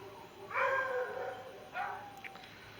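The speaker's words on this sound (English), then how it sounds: "My dogs are going crazy." Pet dogs at home bark and yelp excitedly in two short, close bursts, the first longer and louder, over a quiet indoor background.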